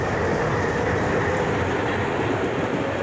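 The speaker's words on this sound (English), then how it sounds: "That is the dual WBG3 freight train." Freight train hauled by twin WBG3 locomotives rolling past on an Indian line, a steady, loud broadband rumble of wheels and wagons with no break for the whole stretch.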